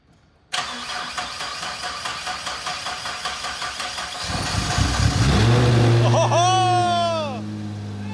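A Nissan GT-R cranks with a fast pulsing starter churn, catches and flares into a loud rising rev, then settles toward idle close by, with voices speaking under the engine.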